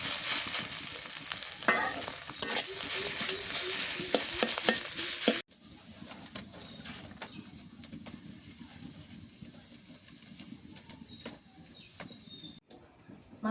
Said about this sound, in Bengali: মাছের ডিমটা ভাইজা নামাই নিলাম